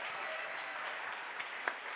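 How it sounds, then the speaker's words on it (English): A crowd at an eighth-grade championship basketball game claps steadily, a faint, even wash of applause heard from a distance with no talking. "Everybody's clapping, so I started clapping too."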